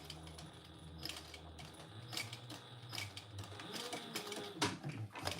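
A sewing machine backstitches purple thread on purple fabric, giving a steady mechanical whir with quick clicking bursts and a low motor hum, close and moderately quiet.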